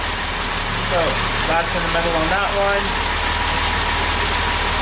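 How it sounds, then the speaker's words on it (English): A car engine fitted with SU carburettors idles steadily and fairly loud in a close, continuous low hum, while someone talks over it throughout. "And it's idling a little bit higher on this one."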